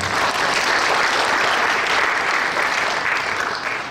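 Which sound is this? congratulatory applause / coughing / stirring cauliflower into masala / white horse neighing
congratulatory applause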